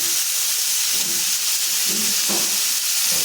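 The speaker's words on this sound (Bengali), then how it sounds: "সব সবজিগুলো এখন ভালো করে ভেজে নিতে হবে" Carrots, beans and capsicum fry in a pan, giving a loud continuous steamy sizzle and hiss close by, with faint stirring scrapes beneath it and no talking.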